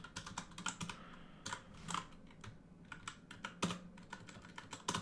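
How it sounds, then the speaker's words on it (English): Fast, uneven clatter of keys on a computer keyboard, close and fairly quiet, in bursts of quick taps with short pauses between them and no voices. "I can't type apparently."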